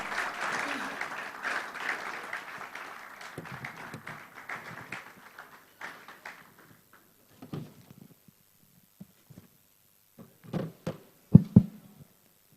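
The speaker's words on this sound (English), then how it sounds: "Please sustain the applause." Audience applause at a live tech festival event as a speaker is welcomed to the stage, dense clapping at first that thins out and fades, leaving scattered claps, taps and faint room noise.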